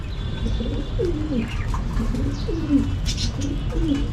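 A pair of pigeons coos close by in soft, repeated rolling calls over a steady low background hum, with no talking.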